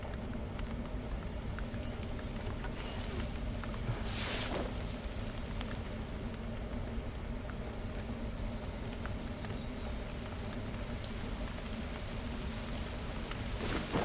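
Steady in-game rainfall from theHunter: Call of the Wild hunting game, a continuous even hiss of drops on surfaces with a faint low rumble beneath, sustained and uniform throughout with no talking.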